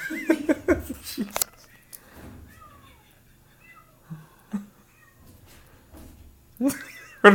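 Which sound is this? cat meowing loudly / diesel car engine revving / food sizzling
cat meowing loudly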